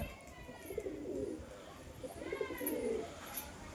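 Giribaz pigeons coo in low, throaty bursts, two rolling bouts close by, with a steady soft background hiss.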